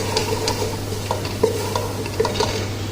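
Spices being stirred in a cooking pan for an Indian-style green bean curry, with soft scraping strokes and light sizzling over a steady low hum, the stirring sounds recurring at a gentle uneven rhythm.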